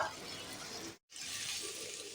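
Spice paste for a cabbage curry stirred and frying in a hot pan makes a soft, faint sizzle and hiss, cut by a brief silent gap midway, with no talking.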